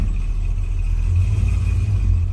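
A 1957 Plymouth Fury's engine rumbles steadily at idle nearby, a deep, even low-pitched throb with no clear change as it is put into drive.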